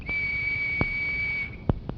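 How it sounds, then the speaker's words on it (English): A steady high-pitched whistle held for about a second and a half, used to trigger an electric door mechanism, followed by a few sharp clicks and knocks nearby. "Now I'm going to show you how a whistle can be a door key"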